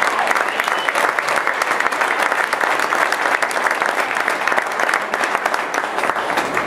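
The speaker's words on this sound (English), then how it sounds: "let's give them another huge round of applause" A large audience at the Jack Daniel barbecue competition results ceremony gives a sustained round of applause, dense and steady throughout with no talk over it.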